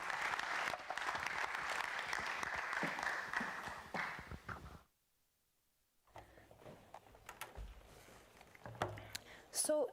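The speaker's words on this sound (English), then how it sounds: "Thank you for the applause" Audience applause fills the first half, a brief silence follows, then scattered clapping and crowd noise return.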